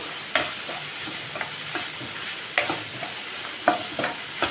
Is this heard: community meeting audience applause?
no